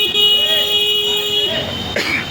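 A vehicle horn sounds on the street as a sustained, steady tonal honk lasting about two seconds, fairly loud and close, with a brief higher blast near the end.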